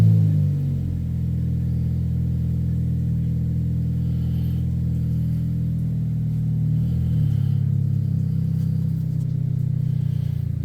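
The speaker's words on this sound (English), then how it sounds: "somebody is rude as shit and driving their loud ass car again" A loud car drives past outside with a sustained low engine rumble, swelling and fading gradually as it passes at moderate distance.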